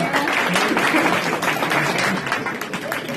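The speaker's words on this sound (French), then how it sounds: "On peut applaudir quand même" Dense applause from an audience at a hypnosis and mentalism show, many hands clapping steadily and fairly loud for the whole stretch.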